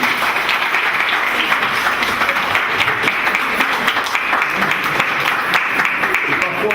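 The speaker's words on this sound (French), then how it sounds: "On peut les applaudir." Applause fills a civil wedding ceremony for the married couple, a dense steady crowd clapping at close range with voices mixed in.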